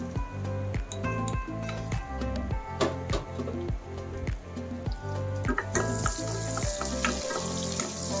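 Onion frying in a pan at the start of a cabbage stir fry with shrimp and squid, a steady sizzle under regular spatula clinks, with background music throughout and a brighter, hissier burst in the final seconds.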